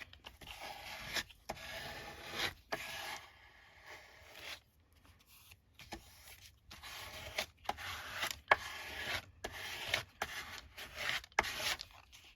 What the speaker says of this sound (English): if you do give it a really good burnish